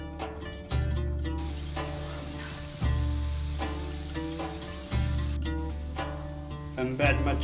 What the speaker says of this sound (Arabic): فدابا من بعد ما سخنات زيت الزيتون في الطاجين المغربي الاصيل، كنحيدو سميتو، ومن بعد نزيدو البصلة